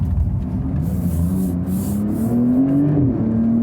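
A Porsche 911 Turbo S engine drops down the gears approaching a corner, a loud, close rumbling drone whose pitch climbs and shifts as the revs rise, with faint rushing noise above.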